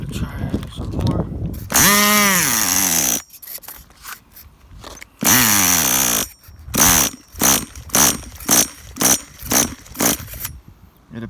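Tamiya TGS-R nitro engine with a throttle fault and an unresponsive carb revs in loud, high-pitched buzzing bursts. It cuts in and out, then ends in a rapid series of short stuttering blips. Close and harsh.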